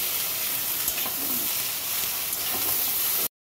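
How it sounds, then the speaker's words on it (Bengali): Green banana, potato, dried lentil dumplings, beans, pointed gourd and ridge gourd frying in a pan for a Bengali shukto, a continuous close sizzle with occasional stirring scrapes, then abrupt silence. "ওই তরকারিগুলি ভাজা ভাজা হয়ে গেছে"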